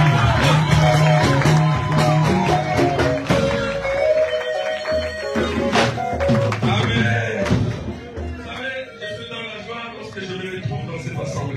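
A church congregation bursts into loud acclamation, with cheering, whoops and rhythmic clapping mixed with music and voices, and the noise thins out toward the end.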